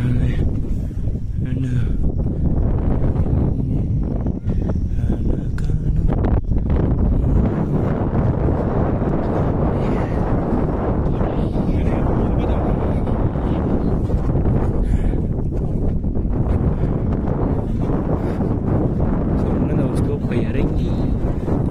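Strong wind roars steadily at a hilltop viewpoint in Chikmagalur, Karnataka, buffeting the microphone loudly and continuously throughout.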